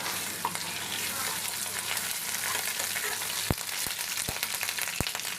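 Chicken pieces and spices frying with ginger paste in a pan: a loud, dense, steady sizzle close to the mic, with four or five sharp spoon knocks near the end.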